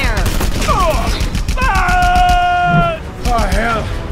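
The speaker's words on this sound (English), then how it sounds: "I recognize the flak. We sold them those guns." Gunfire and anti-aircraft flak from Panauan military forces in the Just Cause 2 video game, heard in dense bursts mixed under game dialogue and a steady electronic tone.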